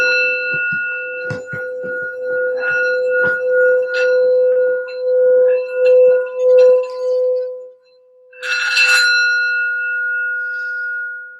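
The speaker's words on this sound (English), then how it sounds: "we're going to do a quick sound bell just for some healing and grounding for the reading" A sound bell rung for healing and grounding rings out with a clear sustained tone, struck several times with soft taps. It fades, then a second bright strike rings on near and loud.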